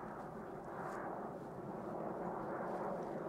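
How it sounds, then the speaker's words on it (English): A fighter jet roars overhead outdoors as a continuous, broad, rumbling wash that swells slightly louder toward the end, with no voices heard. "Some sort of fighter jet."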